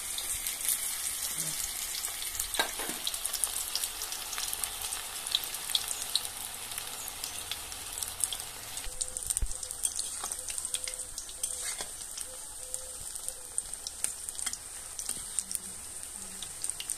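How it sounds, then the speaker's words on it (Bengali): Rohu fish kofta balls fry in hot oil in a village kitchen, with a steady near hiss and scattered light crackles throughout and no talking. "তেলটা গরম হয়েছে, এবার আমি এগুলো ভেজে নেব।"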